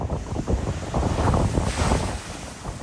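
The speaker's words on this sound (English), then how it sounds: "howling winds sent waves crashing ashore" Storm waves crash ashore in the Northeast under howling winds, a loud, continuous churning surge with wind buffeting the microphone.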